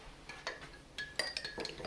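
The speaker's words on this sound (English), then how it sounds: "take your spoon and stir it up." A spoon stirring liquid in a cup, giving a few light, irregular clinks against the side over a couple of seconds, close and fairly quiet.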